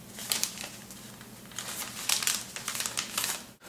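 A sheet of paper being folded for an origami butterfly crinkles and rustles close by in a quick series of soft crisp crackles and scrapes, with no voices.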